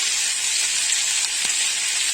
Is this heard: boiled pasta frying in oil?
yes